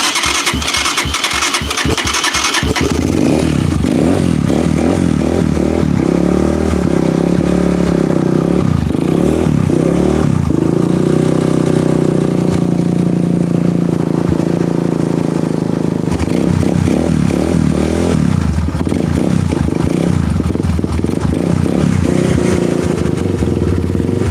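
A motorcycle engine cranks with a few sharp starter bursts, catches, and runs loudly and steadily up close with uneven revving and clatter, no talk over it.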